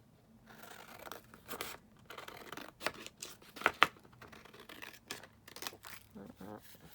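Paper is cut down with scissors while a desk is cleared, giving faint, close snips and rustles with a couple of sharper clicks, quiet throughout.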